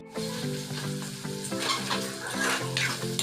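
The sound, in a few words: meat frying in spices in a pan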